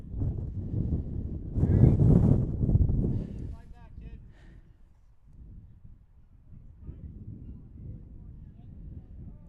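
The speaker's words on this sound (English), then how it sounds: "And you can hear the wind gusting." Wind gusts outdoors at a high school baseball game between Brookline and Sharon, a loud buffeting roar early on that eases into lower rumbles, with a commentator speaking over it.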